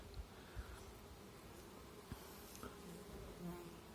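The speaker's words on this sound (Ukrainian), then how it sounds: "Ну отак, бджілки обсіли, ну, трошки може трусанем їх." Honeybees crowd over queen cells close to hatching on a frame at the end of the season, giving a steady, moderately loud hum throughout with a few soft knocks and rustles.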